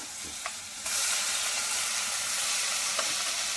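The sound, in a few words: onion paste spattering in hot oil with turmeric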